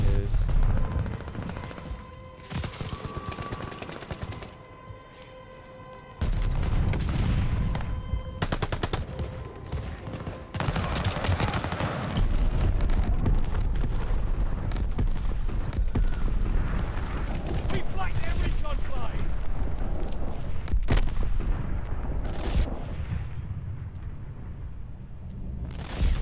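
Dense, continuous automatic gunfire and heavy explosions from a nuke in Call of Duty: Vanguard. The loud, near rattling barrage runs the whole stretch, and a player talks over it.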